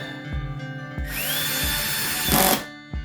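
A power drill whirs and winds up close by, driving screws back into the chassis of a Supro Delta King 10 guitar amplifier, with rhythmic thumps and clicks between bursts of motor whine.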